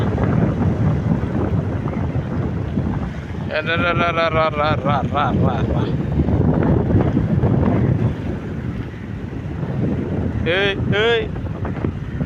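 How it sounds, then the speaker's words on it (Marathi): Sea waves rolling onto Uttan beach, a steady loud wash of surf mixed with strong wind buffeting the microphone, with people talking briefly over it. "अशा लाटा येतात बघा"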